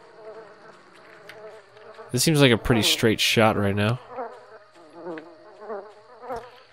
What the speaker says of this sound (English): it's just fucking bees and spiders